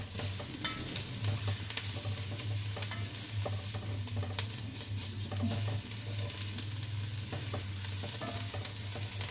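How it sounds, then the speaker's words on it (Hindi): Garlic ginger paste sizzling steadily in a pan, close and continuous, with scattered soft scrapes and taps of a spatula stirring through it and no talk. "अब इसमें शामिल करते हैं लहसुन अदरक का पेस्ट। थोड़ा सा इसको भून लेते हैं।"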